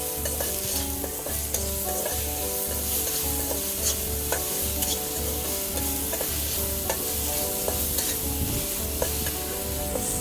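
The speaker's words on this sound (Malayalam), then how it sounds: "ഈ ഉള്ളി ഒന്ന് നന്നായി വഴറ്റി കിട്ടാൻ വേണ്ടി നമ്മൾ കുറച്ച് ഉപ്പ് ചേർക്കുന്നുണ്ട്." Onions sautéing with salt in a pan for a Kerala-style beef curry, giving a continuous, even sizzle with faint stirring ticks, under rhythmic background music.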